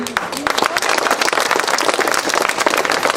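An audience claps for a speaker: dense, steady applause that fills the room for about three seconds.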